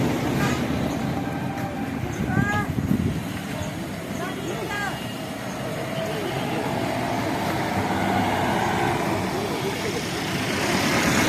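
Darjeeling toy train passing near Ghoom, heard as a steady, continuous rumble of rolling wagons that holds for the whole stretch, with a few brief high chirps early on.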